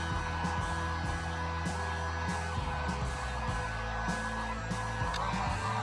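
A handheld heat gun running on its low setting blows steadily while warming a car emblem, a continuous close airy whir with faint hum lines and a few light knocks or handling sounds over it.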